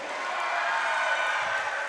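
Crowd cheering in a gym at a Summertown versus Harpeth sectional high school volleyball match, a steady broad roar of voices held at even loudness throughout.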